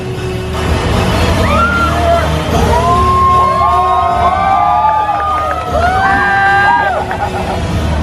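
A large crowd on the first night of Universal Studios Orlando's 2023 Halloween Horror Nights cheers, whoops and shouts in a loud, continuous roar, with rising yells and whistles cutting through the dense babble.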